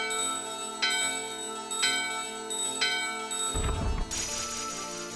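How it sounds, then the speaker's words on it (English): Bell ringing in the video game Final Fantasy IX: three evenly spaced chimes, about a second apart, ring over steady game music, followed by a louder low burst and a bright shimmering flourish. "Ring the bell."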